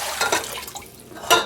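Thirty-two ounces of warm water pours into a mixer bowl for bread dough, giving an uneven, splashy trickle that thins out midway and then surges again with a brief louder splash.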